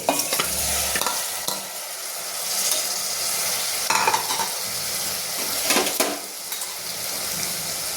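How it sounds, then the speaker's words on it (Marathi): Washed rice going into a pan of spiced masala for Maharashtrian masale bhat, stirred and sizzling with scraping of a spoon against the pot, close and fairly quiet with no talking. "आता आपण हे तांदूळ धुवून ठेवले ते टाकून घ्यायचे।"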